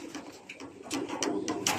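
A racing pigeon arriving at its loft in Balagtas, Bulacan gives soft, low cooing calls close by, a few short coos in quick succession.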